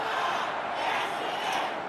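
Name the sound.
stadium crowd cheering a goal in video game AFL Evolution 2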